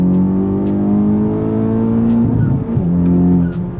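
A tuned 400 whp Honda Civic Type R FK8 with rolling anti-lag accelerating hard, loud steady engine drone with rising harmonic tones held close throughout, briefly roughening near the end.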